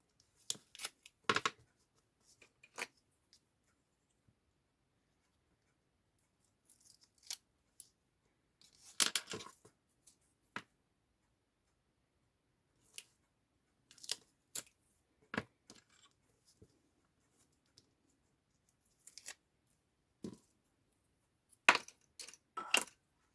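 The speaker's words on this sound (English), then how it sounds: "I'm gonna cut it slightly shorter on one side" Scissors snip through fake leather or cardboard craft material in sparse, irregular cuts, some single and some in quick clusters, close and fairly faint against near silence, with no talking.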